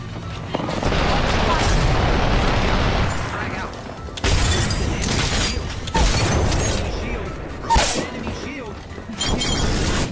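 Loud booming blasts and crackling gunfire from a grenade explosion in the game Apex Legends, with several heavy bursts in quick succession and players shouting over them.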